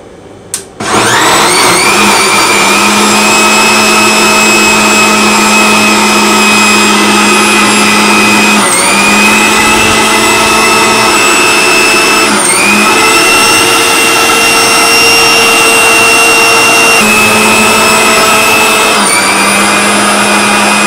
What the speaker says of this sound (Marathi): आता हे आपण ग्राइंड करून घेणार आहोत.